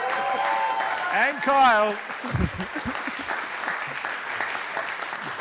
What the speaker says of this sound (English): keep the applause going for Anthony Ackroyd